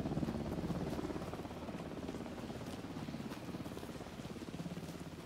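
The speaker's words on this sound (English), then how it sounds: "Well, that sounds like a helicopter." A helicopter in the video game Alan Wake 2 drones faintly in the distance, a steady low rotor rumble with a soft pulsing texture running under quiet ambience.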